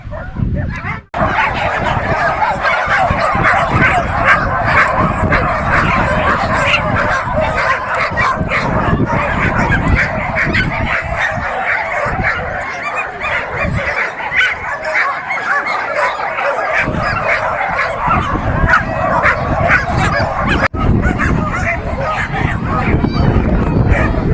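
Loud, chaotic barking and yipping from many dogs at once on a beach before a race, continuous and close, mixed with excited people's voices and some whimpering.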